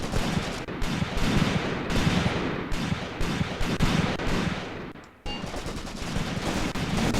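Dense infantry rifle and machine-gun fire crackles continuously in a Graviteam Tactics battle in the Shilovo 1942 setting, loud and sustained with a brief dip near the end before the shooting resumes.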